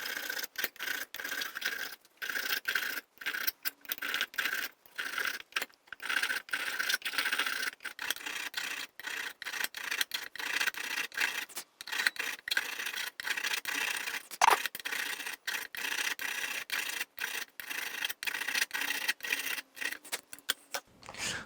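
A metal file crowning guitar frets during a refret, steady rhythmic rasping strokes repeated close and clear for a long stretch, each pass a short scrape with brief gaps between, no voices.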